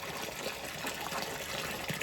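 Water rushes steadily through a gold sluice on a Lake Superior beach, a continuous close gushing and splashing wash that stays even in level throughout, with no talking.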